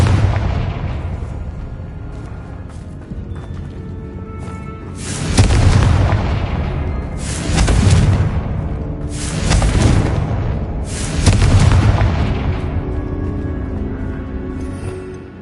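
Repeated Confringo blasting-spell explosions in a Harry Potter video game, four heavy booming blasts roughly two seconds apart over a steady rumbling background, loud and close.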